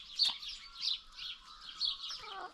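Small birds chirp and tweet at backyard feeding stations on a homestead in a steady run of quick, high calls, fairly faint and without talk.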